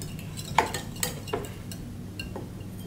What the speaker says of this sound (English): Yeah, so let's start mixing.